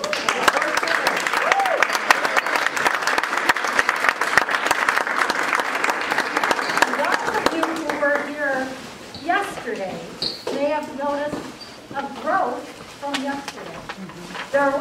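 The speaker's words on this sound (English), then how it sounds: "I think they deserve another round of applause" An audience claps loudly and steadily after a school play, a Wiz-Dom of Oz classroom production, with a voice speaking over the applause toward the end.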